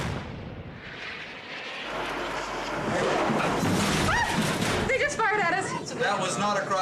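A naval cannon shell fired at a ship at sea in international waters lands close by, a heavy rumbling blast under loud, overlapping shouting voices, with wind and engine noise throughout.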